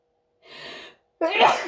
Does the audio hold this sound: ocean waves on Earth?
no